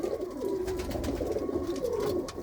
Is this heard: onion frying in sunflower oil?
no